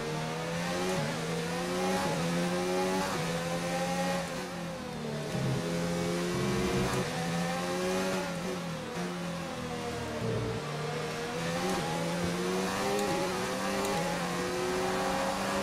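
Formula 1 car engine from the F1 2019 video game at Abu Dhabi, screaming at high revs through a lap with repeated rising and dropping gear shifts, loud and steady with no talk.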